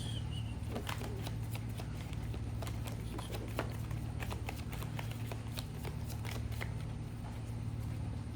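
Tarot cards being shuffled and drawn, a series of soft, close riffling snaps and flicks at irregular intervals over a steady low hum.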